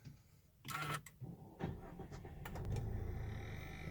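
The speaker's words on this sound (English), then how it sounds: "so I shall start the car" A Mazda CX-3 is started from inside the cabin: a starter whir and mechanical clicks give way to a quiet engine settling into a low idle, faint and close.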